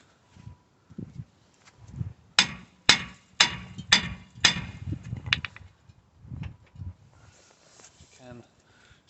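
A rusted brake disc on a car is hammered off, with a run of sharp metallic blows in an irregular rhythm. Someone talks quietly between the strikes.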